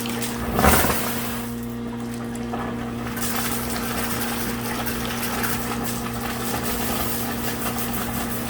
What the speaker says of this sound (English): I'll show you what it looks like when I run the air through it.